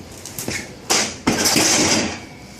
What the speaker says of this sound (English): So the exhaust sounds pretty good. It's kind of loud.